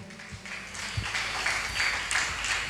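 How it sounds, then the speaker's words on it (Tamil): Church congregation clapping hands overhead during a worship service, a faint, diffuse patter of many hands without voices. "தலைக்கு மேல ஒரு கைதட்டு கொடுங்க பாப்போம்."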